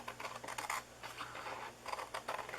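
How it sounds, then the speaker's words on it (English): Quiet, crisp snipping and slicing as scissors cut through paper in irregular bursts, close and faint. "That's why I love these big scissors."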